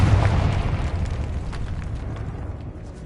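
A Confringo fire spell bursts in Hogwarts Legacy with a heavy, rumbling explosion that hits loud at once and then rolls and decays over about three seconds, with no talking.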